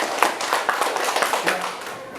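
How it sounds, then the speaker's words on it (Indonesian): Clapping from a school group, with broadband bursts that are scattered and uneven rather than one steady ovation, fairly close and moderately loud over a brief stretch, and a faint voice partly audible beneath it. "Tepuk tangan semuanya."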